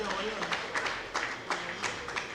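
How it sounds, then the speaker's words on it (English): A small audience at a college event in Ikare, Ondo State, claps for a guest in a brief, light round of applause with rhythmic hand claps. Crowd noise sits underneath. "A round of applause for Mr."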